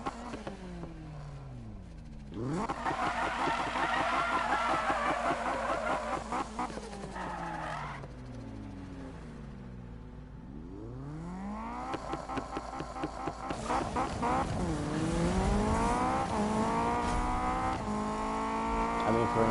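An Acura RSX drifts in Need for Speed, its engine revving and falling while tires squeal in long, wavering screeches that rise and fade through several slides, growing louder toward the end.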